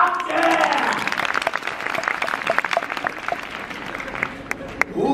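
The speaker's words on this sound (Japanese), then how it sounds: "盛り上げてくれたこちらのトークにも大きな拍手" A crowd at a Universal Studios Japan live show applauds loudly and steadily, dense clapping filling the whole stretch with some cheering voices mixed in.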